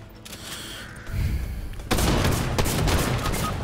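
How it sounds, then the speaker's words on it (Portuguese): Shotgun fire rattles out in quick, dense bursts in the video game Fortnite. It starts at a moderate level and grows louder and more continuous, with booming blasts packed closely together. "A 12 do cara dá 300 tiros por segundo, velho."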